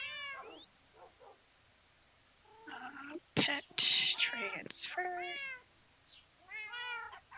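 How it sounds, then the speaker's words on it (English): Several cats meow in a Minecraft game, high pitched and close, in short calls before and after a stretch of people talking over game noise. "All of these cats are probably related like my horses."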